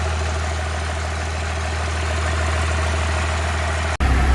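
A 12-valve Cummins diesel swapped into a 1986 K3500 truck idles with a loud, steady low rumble and even mechanical clatter, close up, then briefly cuts out near the end before picking back up.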